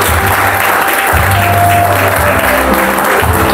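A church congregation applauds loudly and steadily in praise of the Lord, a dense sustained clapping throughout.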